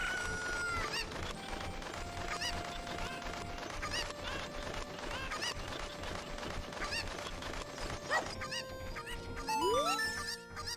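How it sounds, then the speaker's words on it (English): A chicken in The Legend of Zelda: Ocarina of Time clucks in short repeated calls over steady in-game background music, ending in a brief rising effect. "Come here, chicken."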